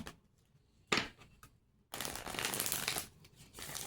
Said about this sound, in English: who wants to listen to somebody shuffle and just talk about stuff?